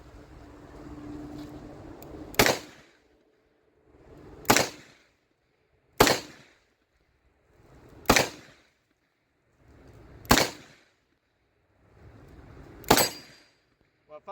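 Six loud, sharp gunshots from a Smith & Wesson 642 .357 revolver fired double action, spaced roughly two seconds apart, each ringing out briefly over a low background murmur.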